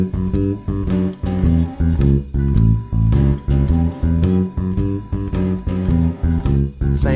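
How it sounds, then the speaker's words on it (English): A classic blues shuffle bass line walks in a bouncing, steady rhythm over a full backing track with drums, prominent and close, with no talking. "It's a total classic blues bass line."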